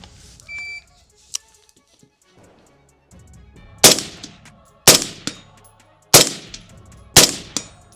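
A shooting timer gives a short beep on an outdoor range, then a general purpose rifle fires four loud, sharp shots about a second apart, each with a ringing tail.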